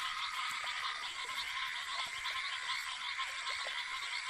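Foam frogs call during heavy rains at the vanishing pools of the Zambezi, a dense, steady chorus of overlapping high trilling calls that continues unbroken, with scattered lower clicks and no talk.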